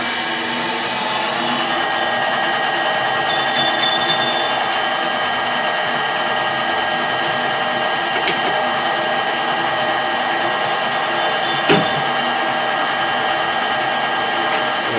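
A Colchester Bantam lathe takes a deep cut while making change gears, giving a steady, loud mechanical whine with layered harmonic drone and a few sharp clicks and knocks along the way.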